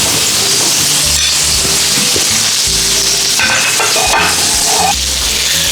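Steak searing in a hot pan for steak au poivre, a loud, steady sizzle and crackle with shifting spits and hiss throughout, close and with no talking.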